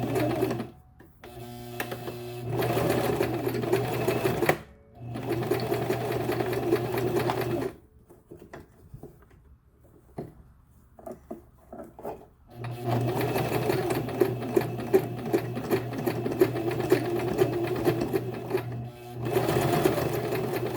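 A sewing machine runs in bursts while stitching a wig, its rapid mechanical clatter stopping and restarting with quiet gaps between runs, close and fairly loud.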